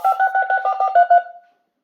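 Philips NMS6302 Minitel 2 viewdata terminal dialing out to a Telstar service: a quick run of about ten crisp touch-tone beeps in steady rhythm, loud and close, then silence.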